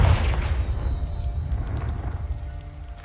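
A Confringo blast spell explodes in the video game Hogwarts Legacy. One deep, loud boom lands at the start, then a low rumbling tail fades over about three seconds with no talking.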